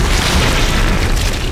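A loud explosion in the video game Dead Space, a dense, rumbling blast that fills the whole moment without a break, with no voices over it.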